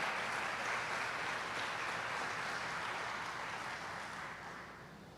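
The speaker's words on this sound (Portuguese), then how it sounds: "Você pode aplaudir ele bem forte?" A church congregation applauds steadily, a dense wash of clapping from many hands that holds at an even level and then slowly fades toward the end.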